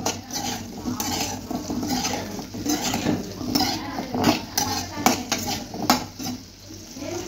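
Small onions being sautéed in groundnut oil, with steady stirring and scraping of a spoon against the pan over a soft sizzle, close and continuous with irregular clinks throughout.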